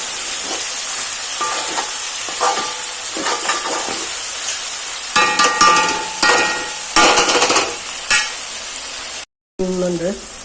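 Vegetables and tomatoes sizzling and being stirred in a pan while a fried-fish curry is prepared, with steady frying hiss, scattered scraping and clinks throughout, and a brief dropout near the end.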